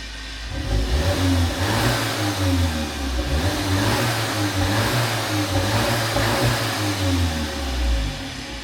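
A VW Polo GTI AW with a GPF/OPF filter and stock exhaust revs steadily. The engine note rises and falls in a muted, fairly quiet drone, with little exhaust character and no talk.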